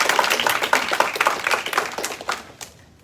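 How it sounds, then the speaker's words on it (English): A small group claps for a second-degree black belt promotion, a brief, uneven round of hand claps close by with distinct individual slaps that thin out and fade within a few seconds. "So a big round of applause for that"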